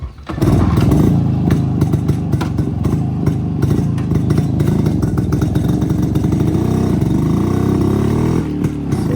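A Yezdi Roadking 250cc two-stroke motorcycle engine runs loud and close for the whole stretch, a steady throbbing drone with rapid firing pulses and slight shifts in revs, with no talk over it.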